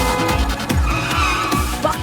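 A cartoon car pulls away with loud tyre squeals and skidding over a revving engine, with several sharp screeches in quick succession, close and prominent.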